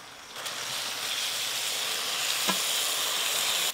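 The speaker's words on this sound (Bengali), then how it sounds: "এবার গ্রেট করে ধুয়ে রাখা আলুগুলো দিয়ে দেব" Washed grated potatoes go into a pan of oil and water, setting off a soft, even hiss that swells slightly and holds steady, with one small clink midway and no voices.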